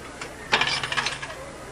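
A short burst of coins dropping and jingling, as in a slot machine payout, a bright metallic clatter of several pieces settling quickly and fairly close.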